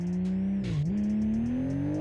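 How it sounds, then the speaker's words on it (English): Modded car engine in the BeamNG Drive game, droning steadily with a brief dip in pitch as a gear shifts, then climbing smoothly as it revs higher, loud and continuous. "I can sense that the car sounds different comparing to the last one"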